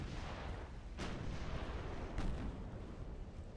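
Battleship guns boom in the naval game Ultimate Admiral: Dreadnoughts, a dense continuous rumble of heavy artillery with two sharper blasts standing out, distant and muffled, no voices.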